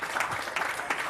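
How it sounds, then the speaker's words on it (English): Audience applause at a community gathering hosted by MLS Works, Black Players for Change and 100 Black Men of America, a steady crowd clapping with slight surges, fairly close and filling the whole moment. "Let's give him a round of applause."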